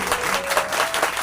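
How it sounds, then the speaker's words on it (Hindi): Congregation clapping in a church during a Palm Sunday service, a steady dense patter of many hands filling the room without pause. "जोरदार तालियां बजाएंगे यीशु मसीह के नाम पर।"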